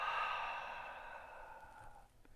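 A long, steady exhaled breath during a qigong breathing exercise, close and soft, fading gradually over about two seconds with no talking.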